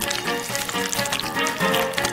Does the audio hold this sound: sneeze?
no